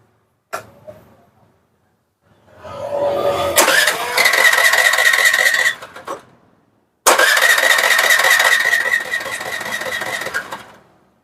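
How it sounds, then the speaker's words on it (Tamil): A Suzuki Access 125 scooter with a faulty sensor causing unstable RPM is cranked and started twice, each time rising into a loud, buzzing rev that holds for a few seconds before dropping away, with a short silent gap between attempts. "இப்போ நான் உங்களுக்கு ஸ்டார்ட் பண்ணி காட்டுறேன் பாருங்க"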